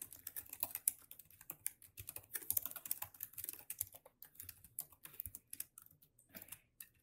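Rapid, irregular clicking of keys on a computer keyboard, close up, continuing for several seconds with short pauses.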